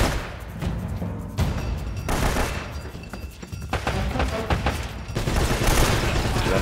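Dense, continuous bursts of gunfire in the video game Uncharted: Drake's Fortune, loud rattling volleys and booming shots overlapping throughout with barely a pause.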